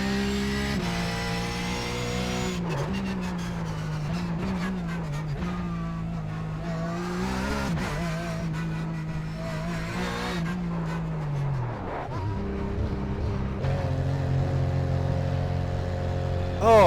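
A Porsche 911 GT3 Cup 991 race car at Bathurst in the iRacing sim, its engine droning and rising and falling through gear changes, with occasional tyre squeal, loud and continuous throughout.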